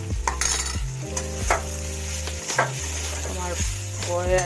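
Soaked sago being stirred into tomatoes in a frying pan, close spoon scrapes and clatters repeating over a continuous sizzle, fairly loud and busy with no talking.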